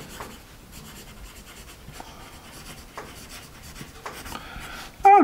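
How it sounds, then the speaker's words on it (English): A 2B pencil writes on paper with a soft, continuous scratchy rub, close and quiet, with small stroke variations and a brief louder scrape at the end. "Let's do a little bit more writing."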